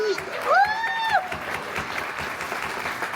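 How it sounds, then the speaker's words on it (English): A crowd applauds the 2025 ambassador at a CHOC Walk charity event, a sharp rising whistle cutting through the first second before the clapping settles into a steady, moderately loud round. "How about a round of applause for our 2025 ambassador?"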